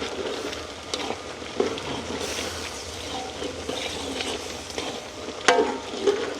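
A spoon stirs and mixes food in a frying pan in a village kitchen. Scraping and clinking strokes run over a continuous low sizzle, close by and alone.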